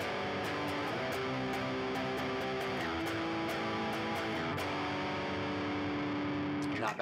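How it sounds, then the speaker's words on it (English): Distorted electric guitar chugs through a power-chord progression with the fifth kept in each chord, a thick, sustained, effects-laden tone that holds steady with a few chord changes and no talking. "So that chord progression, keeping the fifth in there, would sound like this."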